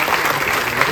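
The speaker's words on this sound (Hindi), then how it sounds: "सर के लिए तालियां।" Brief burst of audience applause at a film festival in Delhi, dense clapping from a crowd heard for about a second.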